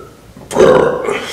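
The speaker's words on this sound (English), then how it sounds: "Excuse me, it's hard to burp off Kool-Aid." A loud, close burp after drinking Kool-Aid during a mukbang meal of loaded Flamin' Hot Doritos nachos: one short, throaty belch heard alone.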